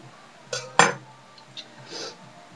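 A knife and fork work on a plate while a cooked chicken tender is cut open, giving a couple of sharp metallic clinks followed by fainter scrapes and taps.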